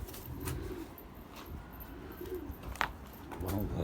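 A red-winged bango pigeon coos in low, rolling repeated calls, fairly close over a steady background hum, with a short sharp noise near the end.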